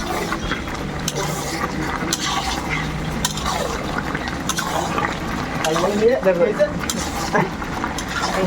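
Mutton cooks and is stirred in a large pot at a busy hotel kitchen. A ladle scrapes and sloshes through a thick, bubbling liquid under a steady hum, with clanks of metal on metal, and voices are heard throughout.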